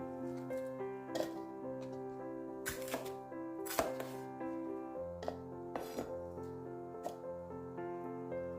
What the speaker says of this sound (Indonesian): Ini kita potong-potong kasar-kasar aja supaya gampang gilingnya ya teman-teman